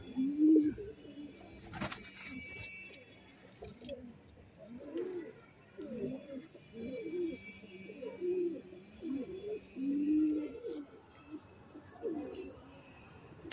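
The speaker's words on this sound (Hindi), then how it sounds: "ये कबूतर है जो आपके सामने उड़ के आए हैं भाई" Pigeons flying in and cooing, with soft repeated low coos recurring through the stretch alongside faint chirps and light fluttering, heard fairly close and quiet with no talk over them.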